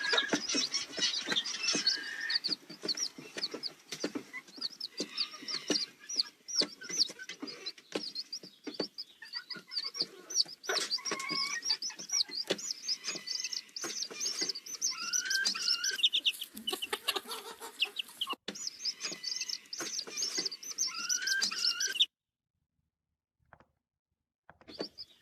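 Small chicks cluck and peep steadily in a dense, close chorus, with soft rustling as they crowd in, before the sound cuts to near silence at the end.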